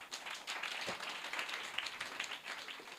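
Congregation clapping at a church sermon, a dense, steady patter of many hands at moderate distance, fairly quiet and continuous throughout.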